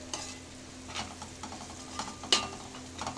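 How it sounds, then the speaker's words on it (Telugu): Rice fried in a pan with eggs and masala powder, a soft continuous sizzle broken by quiet scraping stirs of a spoon, faint and close, no voices. "ఇది ఫ్రై అవుతుంది, చక్కగా ఫ్రై అవ్వనివ్వాలి"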